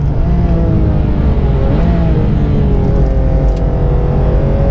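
A Porsche 991 GT3 engine on track revs hard toward 9000 rpm, a loud, continuous, rising wail close by with constant wind and road roar.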